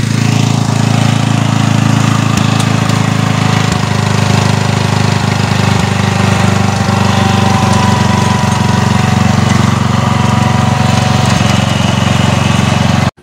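A small hand tractor engine chugs loudly and steadily up close in a South Korean field, a constant rough mechanical drone that cuts off abruptly at the end.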